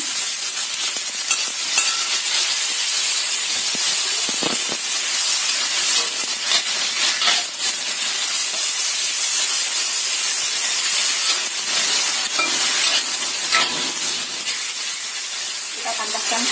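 Mushrooms with chilli stir-fried in a pan for a simple sauté, giving a steady close sizzle and hiss with occasional scraping stirs throughout.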